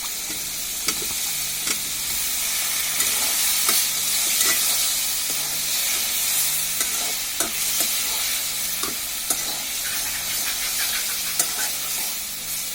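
Eggplant fries in a pan for a tangra fish curry, a loud continuous sizzle with regular scraping strokes as it is stirred throughout, and no voices.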